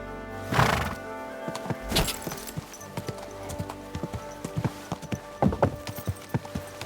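A horse in the medieval game Kingdom Come: Deliverance 2 gives a loud whinny near the start, followed by repeated hoof clops on firm ground and further snorts, with faint background ambience between the steps.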